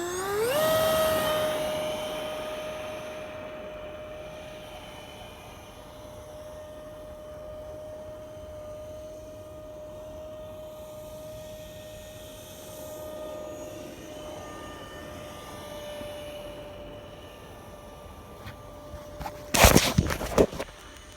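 A homemade radio-controlled EDF jet model at full throttle, a steady high-pitched electric fan whine holding level for most of the run, then a sharp burst of crackling noise near the end.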